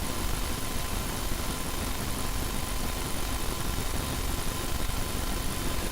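A small electric motor rated at 22,000 RPM maximum spins freely with no load, giving a steady, unbroken whirring hum with a faint tonal whine that stays level throughout, with no voices.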